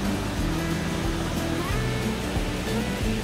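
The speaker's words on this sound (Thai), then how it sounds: "นี่ค่ะก็จะมีเสียงลำธารแล้วก็คล้ายๆน้ำตกเล็กๆอยู่ตรงนู้นนะคะ" Forest stream and a small waterfall at a jungle bathing spot in Pa Phayom district, Phatthalung, Thailand, heard as a steady, full broadband rush of flowing water that stays even throughout with no pauses.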